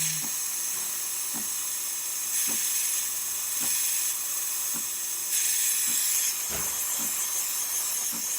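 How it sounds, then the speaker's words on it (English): A DeLonghi espresso machine's steam wand releases a steady, loud hiss of steam, with faint rhythmic ticking pulses underneath and brief surges in intensity, no one talking. "A lot of steam coming out, working great."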